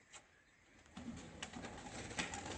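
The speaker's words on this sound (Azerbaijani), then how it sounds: "7 dənə quşumuz qalxdı." Racing pigeons released at the start of a club race flight, with faint cooing and soft wing flaps rising from a quiet start into a steady busy flutter of birds around the loft.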